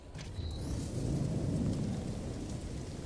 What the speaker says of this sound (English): Weather update. Storm clearing.